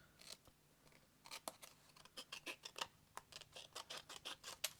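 Scissors snipping through cardstock paper in a quiet room, a rapid series of soft, close crisp cuts with brief gaps between strokes.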